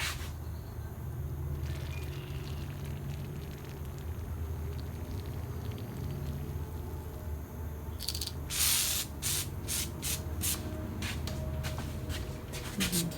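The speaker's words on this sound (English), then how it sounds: "spray it down really good." Liquid Wrench penetrating oil sprayed from an aerosol can onto a hedge trimmer, a low steady hiss giving way to several sharp, close spray bursts near the end.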